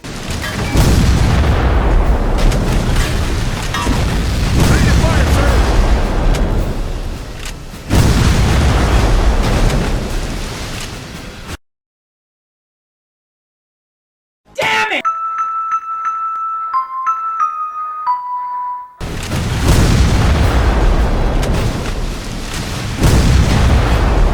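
Artillery shells in the Civil War Secret Missions game explode in long, loud, rumbling booms that fill most of the clip, broken by a brief silence and a short electronic jingle.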